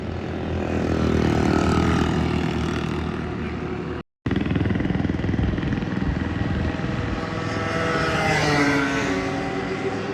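Vintage motorcycles from the 1960s and 70s race past at the Monza circuit, a loud droning engine roar that rises and falls as bikes pass, with a brief cut in the sound midway.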